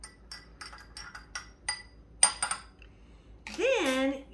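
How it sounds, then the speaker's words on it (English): A twizzle spoon stirs cranberry juice and grenadine in a glass, giving a run of light rhythmic clinks against the glass, ending in a louder stretch that is likely a voice. "You're gonna mix that up. The twizzle spoon works perfectly for it."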